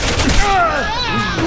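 Rapid gunfire from Resident Evil 6 gameplay, a dense burst of shots under loud overlapping speech and a whining tone.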